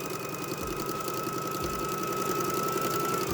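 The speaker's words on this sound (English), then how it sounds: "I'm lining up the fabric with the edge of the foot, and I'm going to stitch all the way down" A sewing machine fitted with a 1/4 inch foot stitches a straight seam along fabric, its motor giving a steady, continuous whirring drone close by with no pauses and no talking.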